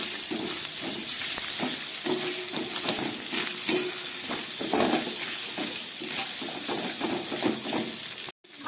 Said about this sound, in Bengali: আদা, নারকেল আর আলুটাকে খুব ভালো করে ভেজে নিয়েছি